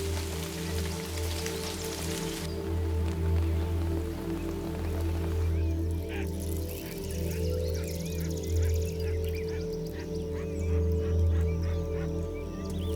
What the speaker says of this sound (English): But as summer arrives, so too do the first rains.